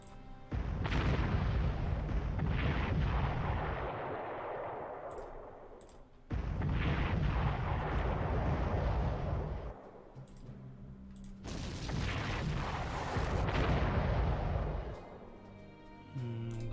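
Three heavy rounds of bombing on destroyers in the Panzer Corps strategy game, each a loud rumbling burst of explosions lasting a few seconds and separated by short pauses.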